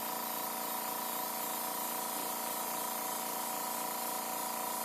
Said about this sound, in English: Trying to reduce the spray back a little bit so it'll just come out real nice.